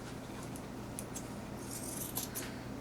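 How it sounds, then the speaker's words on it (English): Scissors snipping excess fabric off a pillow seam, a few light metallic clicks and snips over a steady low room hum, close by and fairly quiet. "we're going to cut this excess off"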